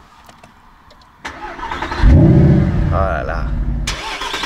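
A Mercedes SLS AMG with a naturally aspirated V8 starts up. A starter whir jumps into a loud, deep roar and then settles into a strong, throaty idle close by. A man briefly exclaims over it.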